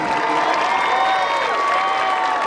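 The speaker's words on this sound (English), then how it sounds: "Another big round of applause for the Bobcat Band and their fantastic performance" Applause for a high school Bobcat Band after its performance at a school district spirit showcase, a steady wash of crowd clapping with light cheering, moderately loud and continuous for a couple of seconds.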